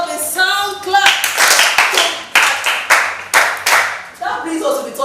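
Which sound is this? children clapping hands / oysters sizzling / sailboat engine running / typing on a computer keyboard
children clapping hands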